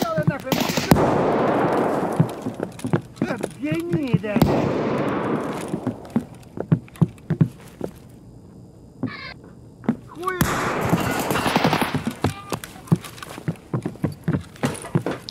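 Shotgun fire in a video game: a few sharp, loud blasts ring out amid bursts of noisy action, and players chatter between the shots.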